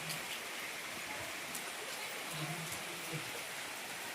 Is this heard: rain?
yes